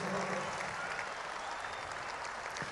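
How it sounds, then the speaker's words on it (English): A large crowd at a campaign rally in a stadium in Cape Town applauds, a continuous, even roar of clapping heard from a distance, fairly faint. "Rise to your feet and give every Muslim in the Patriotic Alliance a big hand of applause"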